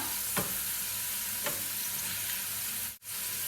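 Garlic frying in a pan while being stirred, a soft steady sizzle with a couple of scraping strokes and a brief break near the end.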